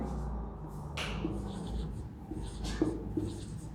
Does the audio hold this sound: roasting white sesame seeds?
no